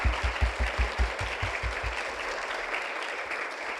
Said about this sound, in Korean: 여러분 박수 보내주시겠습니까?